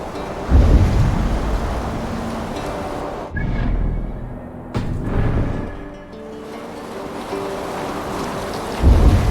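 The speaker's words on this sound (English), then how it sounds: "Do not lose your course through the storm." A thunderstorm with heavy rain at sea in the Discovery Tour Viking Age video game: steady loud rain and surf with deep rolling thunder swelling at the start and end, no voices.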